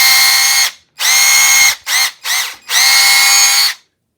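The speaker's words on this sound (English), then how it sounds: "And this is drill or screw." An Einhell cordless drill runs in drill/screw mode, whirring loudly and close in four bursts: two long runs, two quick blips, then a final long run, with brief silences between.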